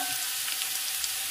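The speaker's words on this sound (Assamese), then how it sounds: "লাও বাকলি আৰু আলু এখন শুকান ভাজি বনাই আছোঁ" Bottle gourd peel and potato frying dry in a pan, a steady close hiss and sizzle with faint stirring, no voices.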